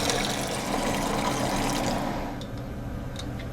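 Whey water is poured off a batch of curd while mozzarella is being made by hand, a loud continuous splashing pour that thins out partway through and drops to a quieter trickle with a few drips.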